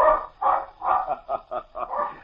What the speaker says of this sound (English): A black and white water spaniel roaming in the brush suddenly springs out on the sand and, plumed tail aloft, rushes off the beach, barking.